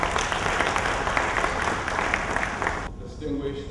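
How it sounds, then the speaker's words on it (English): A crowd at the official launch of the Alternative Securities Market applauds the Nigerian Stock Exchange CEO, with dense steady clapping that fills the room and then cuts off sharply near the end. "Give him a round of applause."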